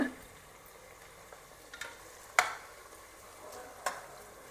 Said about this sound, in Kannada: ಉಳ್ಳಾಗಡ್ಡಿ ಫ್ರೈ ಆಗಲಿ, ಆಮೇಲೆ ಉಳ್ಕಿದ್ದು ಟೊಮೆಟೊದು ಹಾಕೋಣಂತ.